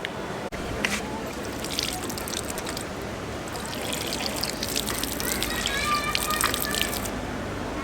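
Natural spring water runs steadily from a public spout in Athens, a continuous close trickle and splash under faint street ambience.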